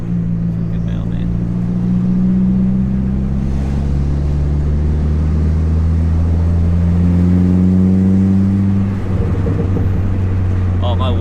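A 4-cylinder car fitted with a 3.5-inch exhaust drones loudly and steadily while driving, its low exhaust note rising and falling slightly as it pulls, with people talking over it.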